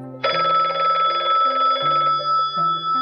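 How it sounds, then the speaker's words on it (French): A telephone rings loudly and alone, one long trilling ring burst followed by quieter tones. "Il a même reçu un coup de fil."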